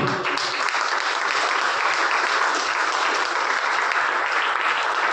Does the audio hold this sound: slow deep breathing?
no